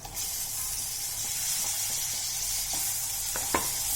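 Chopped tomato hits a hot frying pan with a steady, bright sizzle and hiss, close and continuous, with a few small clinks near the end and no talking.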